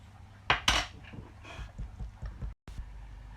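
Caramel sauce being stirred into an icing-sugar donut glaze, a spoon clinking and scraping against the bowl in several close, uneven taps and strokes, with one brief sharp cut-out near the end.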